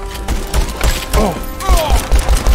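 Rapid gunfire from the VR shooter game Hard Bullet thumps in loud repeated bursts, overlapping with whooshing effects and a voice exclaiming in the background.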